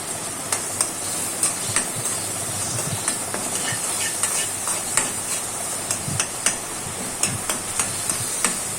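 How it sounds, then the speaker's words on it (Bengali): Shrimp and onion with salt frying in a pan under a steady broadband sizzle, with repeated clinks and scrapes of a spoon stirring at irregular intervals, close and fairly loud. "তো আমি চিংড়ি মাছটা দিয়ে দিলাম আর লবণ দিব ভালো করে নাড়ব যেন পেঁয়াজটা নরম হয়ে যায়"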